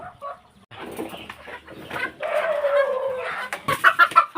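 Chickens cluck in short bursts at a farm while a meal of grilled chicken is being prepared, the calls moderately close and mixed with brief background voices.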